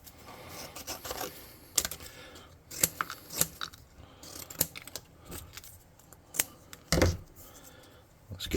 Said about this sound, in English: Now let's get some cardstock